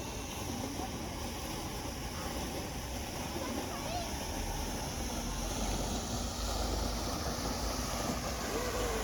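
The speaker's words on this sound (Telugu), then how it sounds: "వాటర్ ఫాల్ ఎంత బాగుందో చూడండి ఫ్రెండ్స్" A waterfall at Shree Gavi Siddeshwara temple rushes in a continuous, even roar of falling water that stays steady and full throughout.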